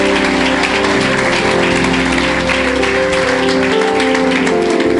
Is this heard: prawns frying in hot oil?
no